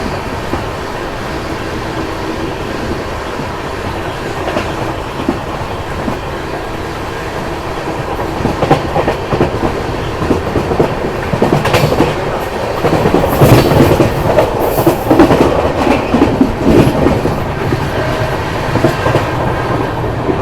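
The Mumbai Indore Duronto Express running through Dewas Junction without stopping, with a steady rumbling roar and rhythmic clickety-clack of wheels that grows louder partway through.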